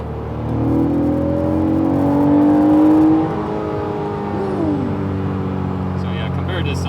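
An Acura NSX engine revs upward under acceleration on a wet road with summer tires, pitch climbing for about three seconds before settling into a steady, close engine drone.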